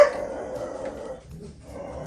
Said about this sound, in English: the dogs barked